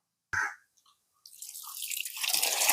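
Cut cassava pieces rinsed by hand in water for a village-style cassava and egg dish: a brief splash, a few faint drips, then a growing, steady sloshing and trickling of water close by.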